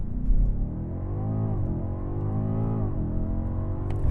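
A BMW M8 Competition launches hard from a standstill under launch control, its engine roaring loud and close with rising, steady revs and brief dips at gear changes across the full pull.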